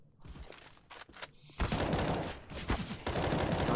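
Counter-Strike match gunfire: a few scattered shots at first, then loud rapid bursts of automatic fire overlapping in dense volleys through the rest.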